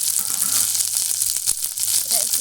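Prawn patoori wrapped in bottle gourd leaves fries in a pan with a steady, loud close sizzle and a few brief clicks of handling, with no talk.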